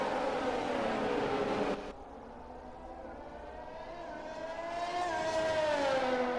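Formula 1 car engine from F1 2020 racing on a flying lap at the Dutch Grand Prix, a sustained high-pitched whine that drops briefly then climbs again through the revs, loud and steady with no talking.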